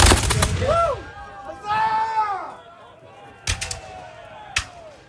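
Musket fire at a 250th-anniversary reenactment of the Battle of Bunker Hill: a few sharp, distant reports stand out among shouting voices and loud talk.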